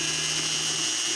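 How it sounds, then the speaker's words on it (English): Pigment mixed vigorously in water with a power mixer for marble lime plaster, giving a steady, loud whirring drone with a constant hum, no speech. "Mix the pigment vigorously in the water for 1 minute."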